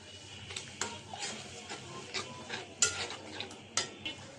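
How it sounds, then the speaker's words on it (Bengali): A spoon scrapes and clinks rhythmically in a pan as ground chili, turmeric and coriander spices fry with a little water for a pangas fish curry, making steady close stirring taps with a soft sizzle underneath. "মশলা কষাবো।"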